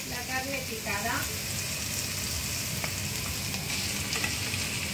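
Minced meat dropped into a hot frying pan for a stuffed aubergine dish hisses with a steady, dense sizzle throughout, a few faint scrapes and clinks rising over the constant frying.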